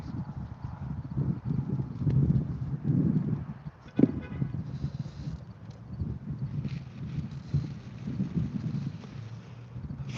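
Mustang hooves clip-clop steadily on ground at a horse rescue in Grand Junction, Colorado, a close, continuous rhythmic clatter with light wind noise and no talking.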